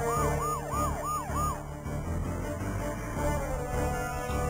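Police car sirens in the video game Sakura Wars V wail in a rapid repeating rise-and-fall pattern, loud and close at first and then blending into dense traffic and street noise, with no talk.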